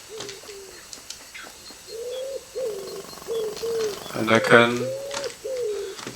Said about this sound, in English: can also hear the owl howling